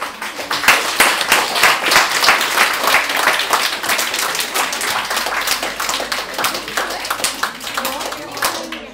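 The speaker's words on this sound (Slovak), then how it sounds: "A pošleme mu aj jeden veľký potlesk" An audience of adults and children gives a big round of applause, dense continuous clapping lasting several seconds, with voices mixed in.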